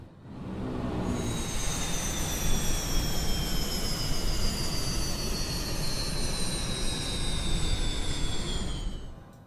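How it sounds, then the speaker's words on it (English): A Pilatus PC-12 turboprop engine winding down in a flight simulator, a loud steady whine with high tones slowly falling in pitch over several seconds before cutting off at the end. "I think we are now finally ready to shut down the engine"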